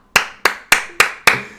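Five sharp hand claps ring out at an even, moderately quick pace, each a crisp, close, loud burst with a short decay and no talking.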